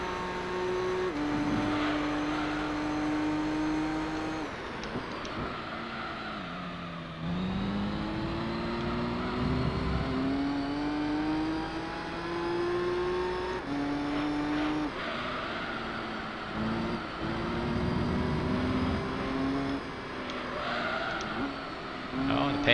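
Race cars in Gran Turismo 3 on Grand Valley in an endurance race, a Supra among them: steady engine drone with rising and falling revs as the cars shift through the gears, loud and constant, under a speaking voice.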